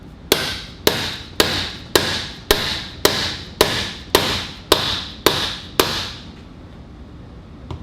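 A hammer strikes an SKF ABS sensor installation tool on a 2004–2008 Chevrolet Colorado or GMC Canyon, ten sharp, evenly spaced metallic taps about half a second apart, close and loud, followed by quiet.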